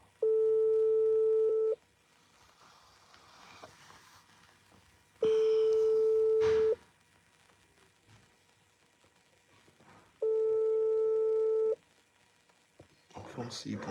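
Telephone ringback tone for an unanswered call, three long steady beeps spaced evenly apart with quiet gaps between, clear and fairly loud, with faint background noise and a brief rustle near the end.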